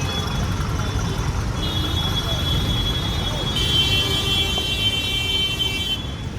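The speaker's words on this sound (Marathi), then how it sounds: "ट्रॅफिक चालू झाली" Road traffic heard from a motorbike riding on the day of the Ganpati farewell: a steady roar of engines and road noise with several sustained car horn blasts sounding nearby.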